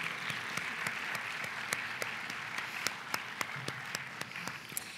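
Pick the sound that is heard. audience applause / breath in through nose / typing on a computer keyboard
audience applause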